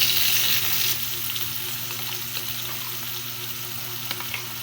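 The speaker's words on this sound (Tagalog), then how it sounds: "Nagpainit dayon di ko diri og mantika kay ako dayon gilunod ang bawang, sibuyas" Garlic, onion and tomato sautéing in hot oil, a dense continuous sizzle and crackle heard up close, loudest at the start and settling into a steady hiss.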